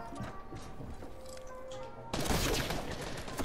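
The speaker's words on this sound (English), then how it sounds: "Nick, I'm gonna shoot it down." Gunfire in a squad-based shooter video game: a dense, continuous spray of shots with a loud burst of blasts near the end, with no talk over it.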